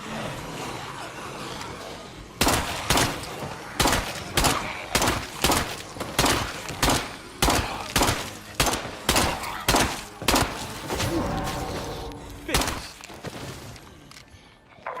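Repeated gunshots fired at zombies in State of Decay 2, a steady series of loud, sharp blasts spaced about half a second apart, each with a short decaying tail, running for several seconds before tapering off.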